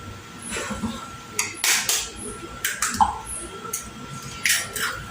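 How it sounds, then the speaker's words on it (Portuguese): Eggs cracked one at a time for a formigueiro cake, giving a series of sharp, close taps and cracks spaced about a second apart over a low kitchen background. "E os ovos que eu vou quebrar separadamente aqui"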